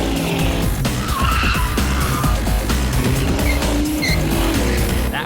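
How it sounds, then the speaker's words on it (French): A car's engine roars as it accelerates hard for a staged road-rage test, with loud tire squeal and skidding noise running nearly the whole time, close and intense. "Une fois de plus, Carrie fait ronfler le moteur."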